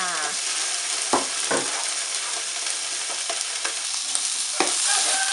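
Bacon sizzles steadily in a hot pan while being fried crisp, a constant crackling hiss broken by occasional scrapes and stirs of a utensil.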